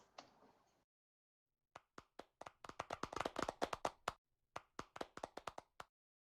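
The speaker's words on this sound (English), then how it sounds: "Another round of applause" Audience applause at a sports conference event, a short burst of dense clapping at the start, then a pause followed by a run of sharp, distinct hand claps that thicken into a brief patter before thinning out.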